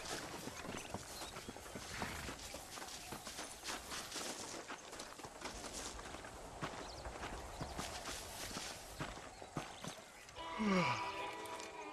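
Horse hooves clip-clop steadily at a walking pace in the Red Dead Redemption video game, fairly faint under an ambient outdoor bed, ending with a brief neigh near the end.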